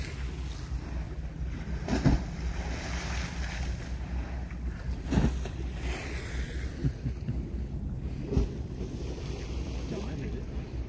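Wash from a passing boat rolls in as waves on the River Mersey at Columbus Quay, Otterspool, a continuous watery rush under steady wind buffeting the microphone, with a few louder surges.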